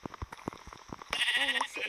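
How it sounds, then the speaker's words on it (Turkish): Sheep bleat loudly and close by, a wavering, drawn-out cry that comes in over the second half after a stretch of quieter outdoor sounds and footsteps. "hem de bu koyunların sesi olduğu için evet"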